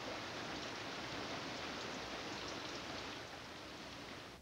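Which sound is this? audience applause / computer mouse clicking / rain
rain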